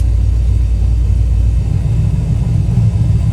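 Deep, loud exhaust rumble from a turbocharged Ford Fairmont with its CO2-powered cutout opened, dumping at the fender; a steady, heavy low drone with no talk over it.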